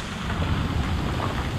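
The monsoon waterfall at Malshej Ghat near Pune, Maharashtra, gives a steady broadband rushing roar, constant and fairly close, with no talking.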